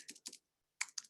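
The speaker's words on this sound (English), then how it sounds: "Maybe I'll just type it the slow way." Typing on a computer keyboard while entering legal rules as code, heard as two short bursts of quick, close key clicks separated by a brief silence.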